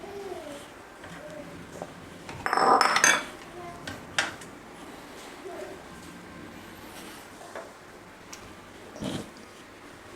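Date milkshake is poured from a mixer jar into serving glasses, with a burst of glass and metal clinks and clatter early on, followed by a few lighter knocks and taps against quiet background.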